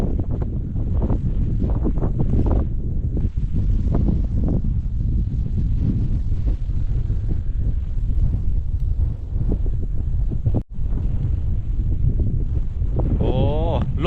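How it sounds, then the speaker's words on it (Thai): Dry wind gusts across a Thai hilltop, roaring and buffeting the microphone loudly and continuously, with a person talking intermittently through the rush. "โอ้ลมแห้ง"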